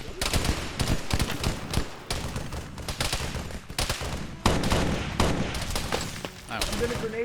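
Gunfire from the video game Halo during a team multiplayer operation: dense, rapid bursts of shots crowd the whole stretch, loud and continuous with brief gaps between volleys.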